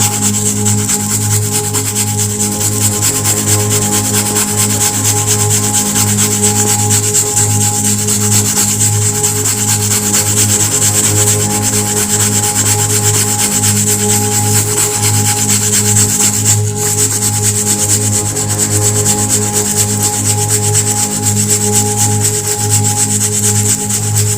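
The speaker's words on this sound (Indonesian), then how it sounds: "Kemudian kita ambil sikat gigi sobat ya, langsung kita gosok seperti ini sobat." A toothbrush scrubbing an ink stain off a bag, a loud, continuous rapid rubbing rasp that runs without pause from start to finish, close up and with no talking.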